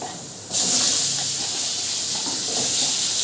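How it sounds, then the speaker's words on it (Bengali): Whole cumin seeds and potatoes hit hot oil with a sudden loud, steady sizzle that jumps in after a brief quiet moment and carries on as a dense, close hiss. "দেখো আমি ওই তেলের মধ্যে গোটা জিরে দিয়ে দিচ্ছি একটুখানি"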